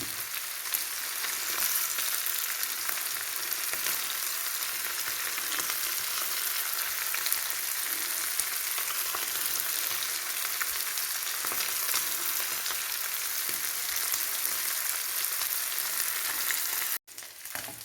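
A steady, loud sizzle of chilli-coated ozhuka fish deep-frying crisply in a pan continues without pause, then briefly drops out near the end.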